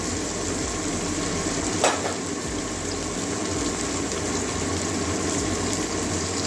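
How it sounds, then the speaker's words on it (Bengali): Tomatoes frying with onions in a pan for a Bengali rui fish roe dish, a constant close sizzle with a brief scrape of stirring partway through. "টমাটোগুলো সিদ্ধ হতে চায় না তাড়াতাড়ি ওই জন্য পেঁয়াজের সঙ্গে ভেজে নিচ্ছি"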